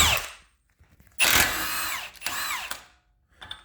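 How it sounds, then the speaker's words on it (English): A 1/2 inch impact wrench works 32 millimeter axle nuts off a Ford Focus, a loud close whir, a pause, then two bursts of hammering rattle, the second ending as the nut spins free, with no talking. "32 millimeter. Recommended 1/2 inch impact."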